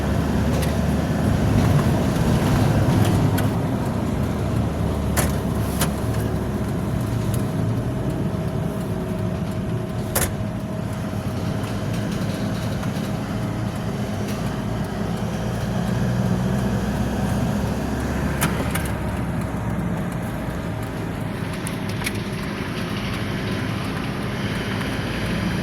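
A car moves through night traffic, giving a steady broadband road and engine rumble with faint rattles and passing noise throughout and no talk.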